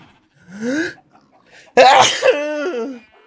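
After a short vocal murmur, one sharp, loud sneeze bursts out, followed by a brief voiced sound.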